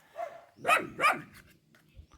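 Puppies left at a village rubbish heap yelp and bark in a few faint, high-pitched bursts, sounding small and fairly close.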